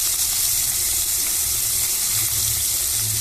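Curry leaves, dried and green chillies and ginger sizzle loudly in hot oil, a dense, steady hiss and crackle that runs unbroken, close up and alone.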